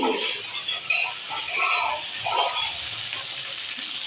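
Rinse water from a spice bowl hits a hot pan of fish curry spices with a steady, close sizzle and hiss that swells and eases over a few seconds, no voices.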